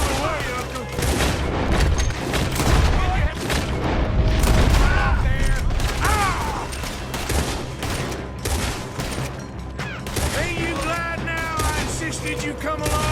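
Gunfire in a robbery in the game Red Dead Redemption: repeated shots and booms crackle densely throughout, loud and close, layered over shouting voices and game sounds.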